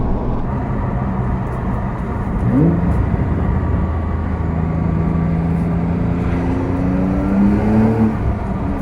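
A 2025 Porsche 911 Carrera T accelerates with a steady, rising engine drone that climbs in pitch through several gears and sits close and fairly loud, with road and wind noise underneath and no talking.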